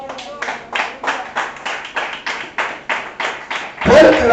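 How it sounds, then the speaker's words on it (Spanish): A church congregation claps hands together in a steady rhythmic beat, about a dozen loud sharp claps in unison before the sound swells into a louder burst of mixed cheering. "Denle un fuerte aplauso a Dios."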